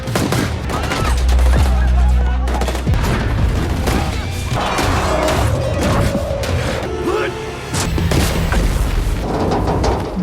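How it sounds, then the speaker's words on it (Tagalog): Loud bursts of gunfire and booming impacts crowd a movie shootout between attackers and a Yakuza-targeted car, with heavy thuds, rapid shots and scattered debris, mixed with music and faint voices. "Nakabaril si James ng isa sa mga umatake bago siya maubusan ng bala."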